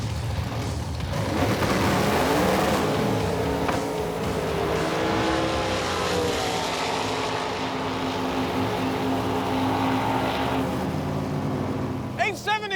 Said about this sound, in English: 2 8-second Roadkill cars lining it up for the honor of the fastest car on Roadkill.